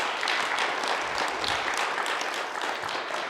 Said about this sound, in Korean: 성도님께 박수 한번 쳐주면 고맙겠습니다.